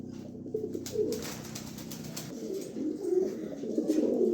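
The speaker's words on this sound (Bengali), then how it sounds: "এখানে এক পেয়ার কবুতর দিলাম" A pair of pigeons kept for sale coo close by in low, rolling repeated calls, with a few faint chirps and soft background noise, no one speaking.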